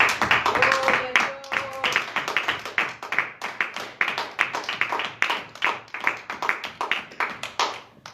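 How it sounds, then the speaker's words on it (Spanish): A church congregation claps steadily in sustained applause, fairly close, with a few brief voices and tones near the start. "Vamos a darle un fuerte aplauso al Señor."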